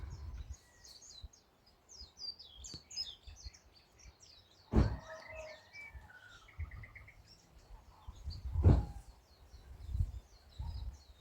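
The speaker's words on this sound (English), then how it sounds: "This is another pretty bird call spot." Birds chirp and trill in McBryde and Allerton Garden on Kauai, a steady scatter of high tweets and song phrases near and far, with two brief louder bursts midway and low rustling beneath.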